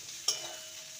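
Ivy gourd (kundri) fries in oil in a covered pan, giving a faint, steady sizzle with one brief clink near the start.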